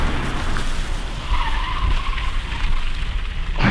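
Audi A3 Turbo launching hard with stability control off, tires skidding and scrubbing with a rough roaring rush of engine and road noise, close and loud throughout.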